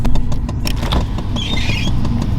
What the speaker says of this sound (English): Automatic windows.